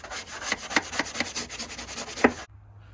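A small nail brush with soapy water scrubs the rear axle of a first-generation Renault Twingo in quick, rhythmic back-and-forth strokes, about ten close rasping passes, before stopping abruptly into near silence.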